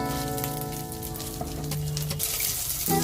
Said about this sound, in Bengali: जीरा चटकना शुरू कर दिया है तो मैंने अब आलू डाल रहा हूँ